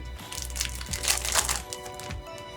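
Scissors cut through the plastic of a trading card case, giving a close run of crackling, crinkling snips and crunches that repeat irregularly at a moderate level, with no talk.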